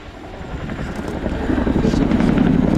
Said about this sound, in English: The Chinook pulls up to the vertical to begin the 2023 display.